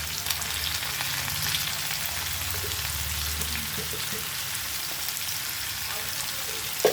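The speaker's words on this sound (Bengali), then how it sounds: "যতটা হলুদ দিলাম, ভালো করে আলুর সঙ্গে এটা ভেজে নিতে হবে।" Potatoes fry with turmeric in a pan, giving an even, continuous sizzle over a low steady hum, with a faint crackle at the end and no talking.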